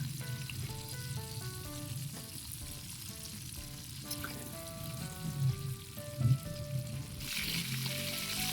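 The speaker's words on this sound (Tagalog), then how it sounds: "Yan, pipirito na tayo." Bangus (milkfish) fries in hot oil with a steady crackling sizzle, close and continuous, with a few louder pops and bubbling bursts.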